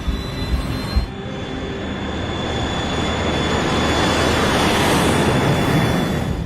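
An airliner's engines roar at takeoff thrust during the takeoff roll, a loud, dense, steadily building rumble with a thin high whine, swelling as speed increases.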